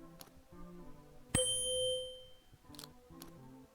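A tuning fork striking a triangle inside a point-and-click adventure game, one bright metallic ding that rings out and decays over about a second, surrounded by soft background music.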